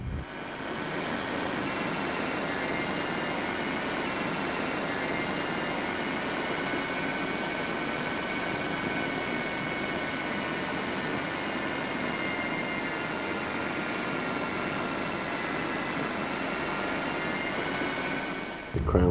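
A yarn spinning frame with 144 spindles runs in a carpet mill, giving a loud, steady whirring drone with a high mechanical whine that holds constant throughout.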